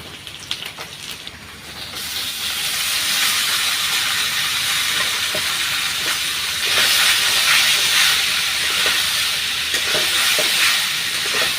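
Pasta is tipped into a hot frying pan of lightly fried onions and chillies, setting off a loud, continuous close-up sizzle and steamy hiss that holds steady throughout, with no voices.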